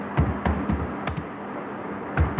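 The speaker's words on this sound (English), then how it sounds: "So in the terminal, I will type sudo" Keys clack on a computer keyboard as a terminal command is typed during an OpenStack install on Ubuntu: about a dozen close, distinct keystrokes in an uneven rhythm, with no voice over them.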